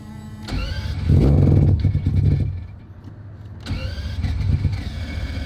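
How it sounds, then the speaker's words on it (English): A 1000hp Mazda RX-7 engine cranks and struggles to start, loud close whirring cranking that swells then fades, followed by a second cranking attempt, with no talk. "One of the reasons it has a hard time starting is because the fuel system shuts off while it's trying to prime and whatnot"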